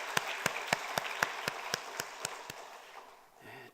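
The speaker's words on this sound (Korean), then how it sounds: "박수로 축복하겠습니다." A church congregation claps together in a slow, even rhythm, about four claps a second, each one crisp and moderately distant. The clapping fades out near the end.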